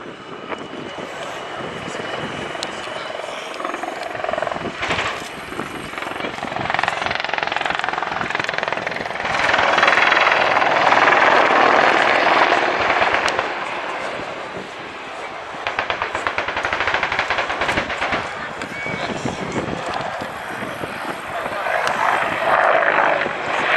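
Apache gunship helicopter at an airshow airfield attack display, its rotor and engine roaring loud and close, swelling and fading as it passes, with a dense rumbling burst of noise that fits 30mm cannon fire.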